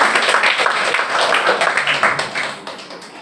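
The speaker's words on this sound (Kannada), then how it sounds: "ताली बजाओ सब लोग।" Members of a church congregation clap their hands together, a loud, fairly rapid patter of many claps that fades toward the end, with a voice faintly mixed in.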